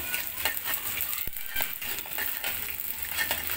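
Chopped garlic fries in a pot for beef sizzling seasoning, giving a steady close sizzle with light stirring scrapes and one sharp clink, no talking.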